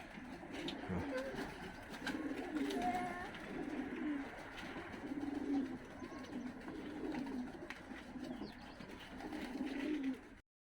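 Racing pigeons coo steadily in an aviary in low, rolling murmurs throughout, several birds overlapping at moderate distance with a faint chirp or two above.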